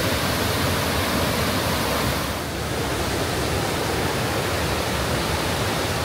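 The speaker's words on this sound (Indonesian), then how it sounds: "Di depan kita sudah terletak sang air terjun yang indah dan cantik sekali." The Guangxi waterfall in Laos sends water rushing down in a loud, constant roar of dense white noise that fills the scene from start to end, with no talking.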